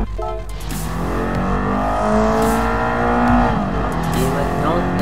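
A Toyota MR2 drifting through the Sainte Croix track in Gran Turismo Sport, its engine whining and revving steadily up and down with tire squeal, loud and close, while someone talks over it.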